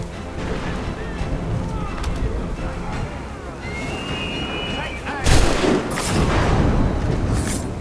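Sniper gunfire in Assassin's Creed 3, a burst of loud shots around the five-second mark over a steady noisy battle and water backdrop, with game voices and scattered sounds throughout.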